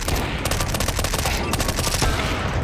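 Rapid, dense gunfire in a Counter-Strike deathmatch, including AWP sniper rifle shots, with sharp loud reports packed closely together and running without pause over steady game noise.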